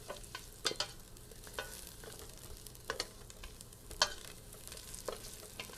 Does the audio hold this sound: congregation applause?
no